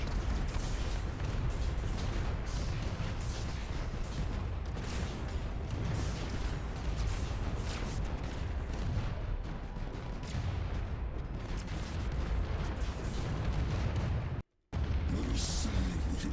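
In the space strategy game AI War 2, an artillery barrage gives off a continuous dense rumble of overlapping blasts and impacts for about sixteen seconds, with one brief dropout near the end.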